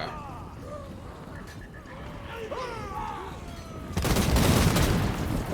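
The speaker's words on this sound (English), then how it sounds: "I want to get some shots of that Hellblast volley gun" A Hellblast volley gun in the video game Total War: Warhammer lets off a loud ripping volley after a quieter stretch of battlefield ambience, with a voice talking over the early part.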